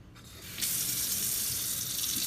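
A kitchen tap opens and runs water to rinse peeled shrimp into a bowl: a quiet start, then a sudden steady close gush of running water with no talk.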